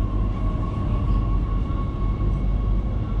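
A Gautrain rumbles steadily and heavily arriving at Johannesburg station, with a constant low drone and a faint high tone, like a carriage rolling slowly into a station.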